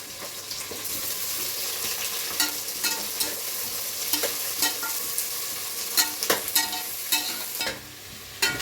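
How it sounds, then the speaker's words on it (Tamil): Ingredients frying in a pan at home while a utensil stirs them, a constant sizzle broken by regular scraping clicks and knocks, fairly close and unaccompanied by talk. "போட்டுதான் இப்போ வறுக்கிறோம்."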